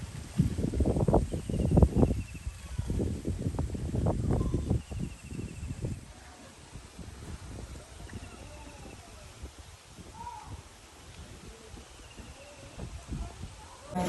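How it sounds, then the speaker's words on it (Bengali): Strong wind blusters across the microphone in heavy rumbling gusts, loud at first and easing to a steady rush, while a person talks. "বাতাসও প্রচণ্ড, দেখছেন"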